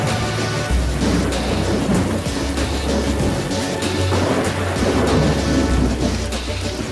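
Thunderstorm with steady heavy rain over the Full Throttle Saloon biker bar, deep rolling thunder rumbling continuously beneath a constant hiss of rain, loud and close, with no talking.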